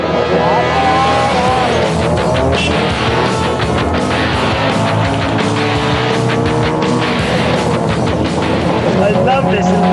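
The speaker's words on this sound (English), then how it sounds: "Nice engine noise." A small LPG-powered tuk-tuk engine runs loud and close throughout, a buzzing, rattling drone with shifting pitch as it moves through traffic, while someone talks over it.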